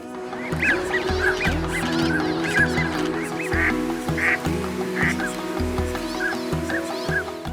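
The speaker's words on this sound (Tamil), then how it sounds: "பழவேற்காடு ஏரியில் தஞ்சமடைந்துள்ள நார்த்தன் பென்டெயில் பறவைகள்" Flock of northern pintail ducks at Pulicat Lake, with many overlapping honking and quacking calls that run continuously at moderate loudness against a steady low background hum.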